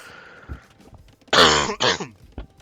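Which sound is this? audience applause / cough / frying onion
cough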